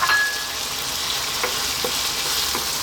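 Coconut milk poured into a hot pan of tomatoes and green beans for a vegan coconut curry, a steady close sizzle with faint stirring scrapes and no talking.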